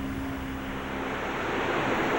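Broad, steady rush of falling water, loud and continuous, with a faint low hum underneath.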